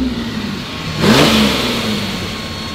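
A Lamborghini LM002 engine idles with a steady mid-range hum, then a single sharp rev swells loudly about a second in and eases back toward a rumbling idle, close by with no talk.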